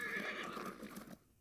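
Horses in the Hex of Steel WW2 wargame give a short, faint whinny with a trace of clip-clopping hooves that stops abruptly.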